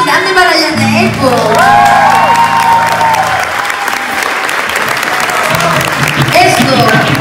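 Loud crowd applause with some cheering at a live gothic-rock beach show, rising and sustained for several seconds, with music and voices mixed in.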